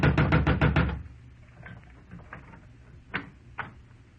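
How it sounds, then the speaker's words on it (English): A quick run of about six loud, even knocks on a house door, followed by quiet and a couple of faint thuds, in an old-time radio drama. "went out in the street and up the steps of the house next door and knocked, good and loud"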